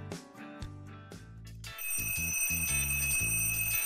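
A musical chime melody plays, then a bright electronic ring takes over with a steady trilling tone over the tune, fairly quiet and continuous.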